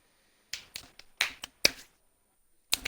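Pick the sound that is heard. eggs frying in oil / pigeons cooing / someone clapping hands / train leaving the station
someone clapping hands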